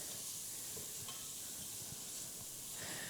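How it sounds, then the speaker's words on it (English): Onions cooking soft in a pot for a broccoli curry soup, giving a steady, quiet sizzle and hiss that runs unbroken throughout, with no talking. "we want those onions to start getting nice and soft"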